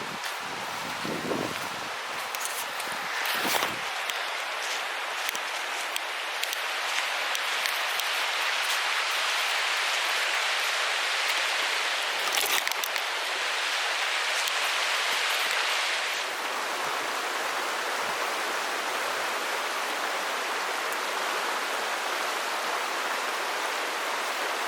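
A wilderness brook in a river system runs near a flat lakeside overnight campsite, giving a steady, full rushing wash of water that stays even and fairly close throughout, with a few brief bumps of handling noise and no talk.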